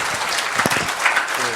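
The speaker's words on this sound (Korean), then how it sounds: "연사님께 박수 부탁드리겠습니다." An audience at a forum lecture claps continuously, a dense steady round of applause throughout the short span.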